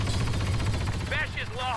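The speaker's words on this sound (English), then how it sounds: "Heavy guns powered up!" Heavy guns firing in the Star Wars Battlefront II video game during a battle on Hoth, heard as a brief crackle of rapid bursts that gives way to a voice calling out over the game.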